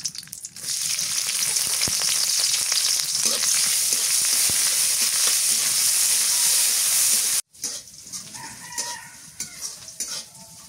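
Chopped onion and black cumin hit hot mustard oil for a magur fish curry, a loud, dense, continuous sizzle that cuts off abruptly, then quieter frying with a rooster crowing in the background.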